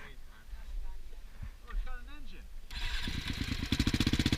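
A motorcycle engine cranks and catches, then settles into a loud, rapid, throbbing idle; a voice speaks briefly just before it fires up.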